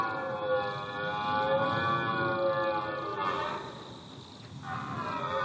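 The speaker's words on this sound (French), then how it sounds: "Le brame n'est autre qu'une séduction pendant la saison de reproduction" Red deer stag belling during the autumn rut in Fontainebleau forest, a sustained, drawn-out roaring moan with strong tonal harmonics, heard from a moderate distance over steady background hiss, swelling and fading once across the stretch.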